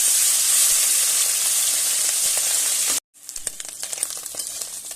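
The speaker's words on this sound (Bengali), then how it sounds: "একইভাবে সমস্ত মাছগুলো আমি ভেজে নেব।" Small mourala fish fry in oil with a loud, dense, steady sizzle that cuts off briefly, then returns as a lighter crackling fry with spitting pops, close by and without talk.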